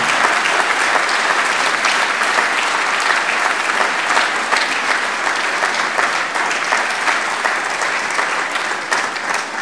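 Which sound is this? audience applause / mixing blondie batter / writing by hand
audience applause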